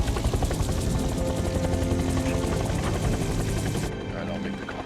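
A helicopter's steady, loud rotor drone fills the whole stretch, dropping slightly in level near the end.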